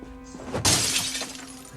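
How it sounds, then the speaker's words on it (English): Window glass smashing in the video game Project Zomboid, a single sharp shatter after a brief lead-in, followed by tinkling fragments fading out. "Remove the broken glass whenever you break a window, because it will annoyingly cut you."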